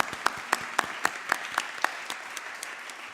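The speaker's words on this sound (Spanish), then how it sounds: "Un aplauso para él" Sparse, rhythmic clapping at an ophthalmology society meeting, roughly a dozen distinct claps at an even pace that grow fainter toward the end, fairly quiet and without talk.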